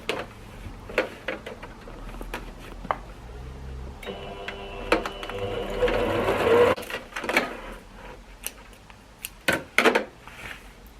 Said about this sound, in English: I'm going to give a top stitch on the pocket half